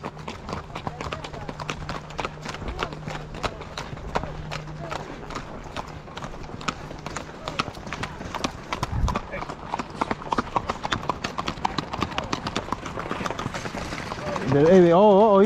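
Horses on a ranch trail ride clip-clop in a rapid, continuous rhythm at close range, building toward a loud gallop near the end, with riders talking over the hoofbeats.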